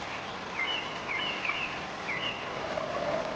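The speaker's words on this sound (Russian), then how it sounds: "Приятное щебетание птиц и шум горной реки очень вдохновляет." Small birds chirp faintly in short, scattered calls over the constant rushing roar of a clear, cold mountain river in Dashbash canyon near the Crystal Bridge in July.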